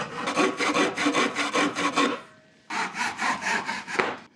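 Hand saw cutting a wooden board for a toolbox on an unclamped, shifting table, with steady rhythmic back-and-forth strokes, a brief pause, then another run of strokes, close and loud.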